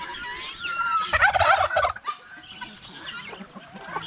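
A turkey on a farm gobbles once in a loud, rapid warbling burst, followed by quieter clucking and scratchy background noise.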